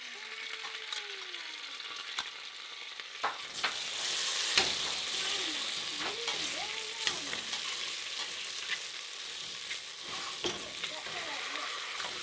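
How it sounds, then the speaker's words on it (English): Salmon sizzles and crackles in browned butter in a pan, a steady frying hiss broken by stirring and scraping clicks, close and fairly loud. "Now that my butter is brown, I'm going to add my salmon"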